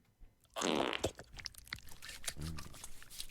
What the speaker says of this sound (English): just a fart